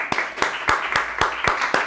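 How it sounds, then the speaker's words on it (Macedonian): A training group claps together in a steady, even rhythm, with about seven sharp, close claps evenly spaced across a short stretch and no talking. "Дајте аплауз сега."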